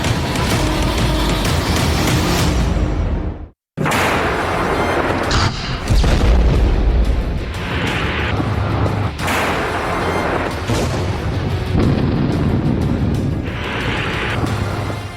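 Missile strikes and artillery in the Ukraine war, with loud, rumbling booms and dense blasts filling the whole stretch, broken by one brief silent cut, with heavy distorted low rumble throughout.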